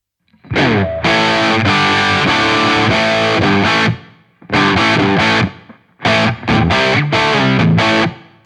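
Distorted electric guitar chords through a Soldano 100 amp preset on a Line 6 Helix ring out in three bursts with short gaps between, each chord sustaining and decaying into a roomy reverb tail.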